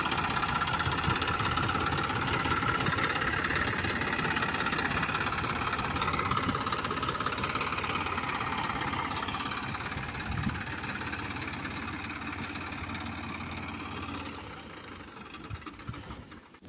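A farm tractor engine runs steadily at a low idle-like rumble on the way to a field in rural Gujarat, continuous and fairly close, easing slightly toward the end with no talk over it.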